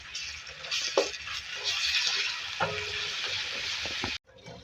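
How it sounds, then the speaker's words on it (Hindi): Steady, loud sizzling of onion and garlic frying in hot oil, with occasional stirring clatter, continuous until a brief cutoff near the end. "इसको फ्राई कर लेंगे।"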